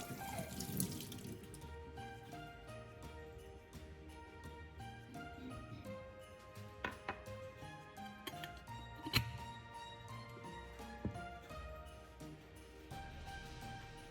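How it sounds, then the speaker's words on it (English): Running tap water rinsing kitchen fixtures, a faint steady splash with scattered clinks and drips, quiet and close. "rinse everything thoroughly with clean water"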